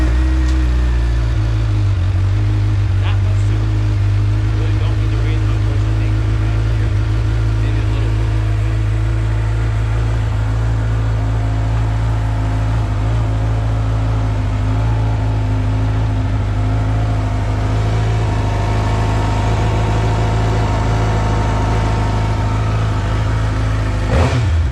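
A 2022 Suzuki GSX-R 750 motorcycle runs with its stock catalytic exhaust, a loud, close, steady engine drone with mild revving that continues through the whole stretch.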